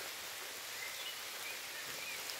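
Rain falls steadily outdoors beside a parked car, a soft, even hiss with no breaks and no voices.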